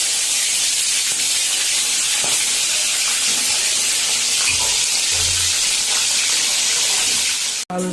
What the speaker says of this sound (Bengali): আর এদিকে মাংস ভাজা হইতেছে